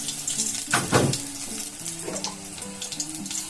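Turmeric dropped into hot oil in a pan sizzles and crackles steadily at close range, with a brief louder burst of frying and light clinks of utensils, no talking.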